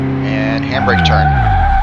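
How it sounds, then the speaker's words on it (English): A car's tires squeal loudly through a handbrake turn in Car Mechanic Simulator 2018, the engine whining under a sliding, rising screech, with a voice speaking over it. "And handbrake turn."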